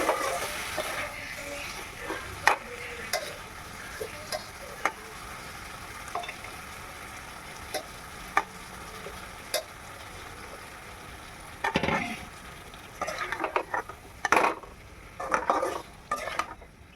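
Amla boiled and mixed with jaggery being stirred in a pan, with scattered scrapes and taps of a spoon against the pan over a low sizzle, the sounds coming in irregular bursts and denser toward the end.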